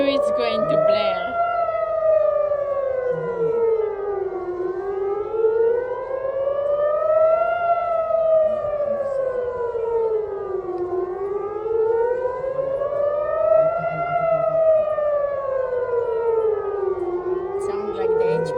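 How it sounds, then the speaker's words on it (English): Close and powerful, an ATI HPSS32 civil defense siren wails in a steady alert, pitch climbing and dropping in long, even cycles over nearly twenty seconds, with faint background noise underneath. "The siren is close to me."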